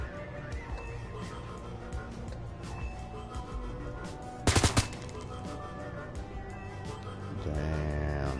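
Gunfire in the video game Shadowrun: Hong Kong, with scattered shots over game music and a short loud burst of rapid fire midway.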